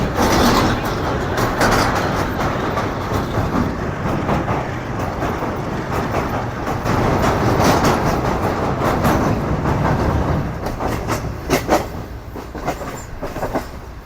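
The Pak Business Express train runs on rails near Kotri between Karachi and Hyderabad, a loud, close, continuous rumble with rhythmic wheel clatter and occasional sharper clacks toward the end.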